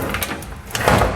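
A door on a CNC machine thuds shut with a couple of clunks and a short rattle, close by, followed by a louder knock near the end.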